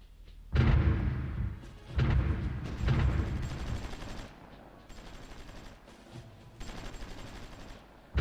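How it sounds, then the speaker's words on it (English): Artillery and gunfire in the strategy game Supreme Ruler Ultimate, with several loud bursts of rapid firing and heavy booms separated by short gaps, each burst lasting about a second. "But it's this artillery group that is doing the majority of the work on firing on the enemy."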